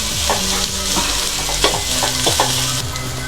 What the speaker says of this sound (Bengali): এই জন্য পেঁয়াজটা একটু সরিষার তেলে ভেজে নিচ্ছি